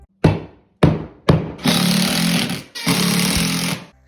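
Power drill driving screws through plywood subfloor into a floor joist, a few short close bursts followed by two longer loud whirring runs, with no talking.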